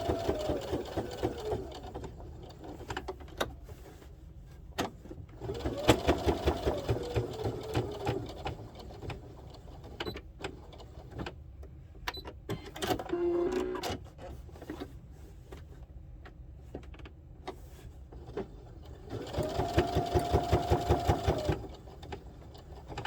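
A sewing machine top stitches a holiday star in three bursts of steady, rapid whirring, with quieter pauses and small handling sounds between runs.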